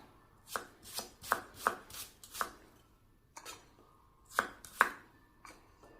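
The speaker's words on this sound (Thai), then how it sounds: "หอมก็ซอยก่อน" A knife slices shallots on a cutting board for a spicy Isan pork curry, giving a close, crisp series of irregular chops with brief pauses in between and no talking.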